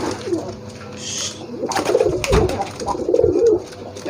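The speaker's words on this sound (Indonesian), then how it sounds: "Ada yang merpati yang begini, lihat teman-teman, giringnya juga susah." Close, soft coos from a young pigeon, rolling in low throaty phrases, with rustling and light movement around them.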